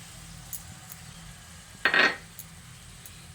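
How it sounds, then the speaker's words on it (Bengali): Spice paste and bowl-rinsing water tipped into a cooking pan for a vegetarian soybean curry, a short splashing clatter of metal and liquid lasting about half a second, set against quiet kitchen background with a few faint clinks. "এবার আমি যে গুঁড়ো মশলার পেস্টটা তৈরি করে রেখেছিলাম সেটা এর মধ্যে দিয়ে দিচ্ছি। সঙ্গে বাটি ধোয়া জলটাও দিয়ে দিচ্ছি।"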